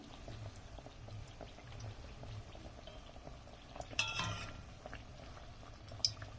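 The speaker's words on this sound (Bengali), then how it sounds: "এগুলো কিন্তু আমি মিডিয়াম আঁচে দিয়ে রেডি করছি" Battered fig chops frying in oil over medium heat: a faint, steady hiss of bubbling oil, broken by a brief louder clatter midway and a small tick near the end.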